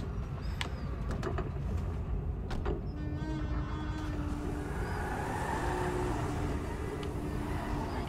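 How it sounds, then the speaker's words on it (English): A thin, repeated squeak in short bursts over steady wind and road rumble, from a car window squeaking while driving in the video game GTA 5. "Sorry for the annoying squeaking sound."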